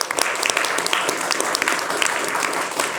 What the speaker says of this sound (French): Je vous demande d'applaudir Pierre Gentillet.